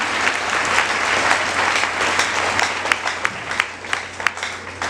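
A church congregation applauds at a consecration-week preaching service, with steady, dense clapping filling the room and a few sharper claps standing out toward the end.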